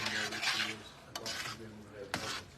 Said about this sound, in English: a full pound of bucatini pasta, which is my favorite pasta. And we're just going to stir that in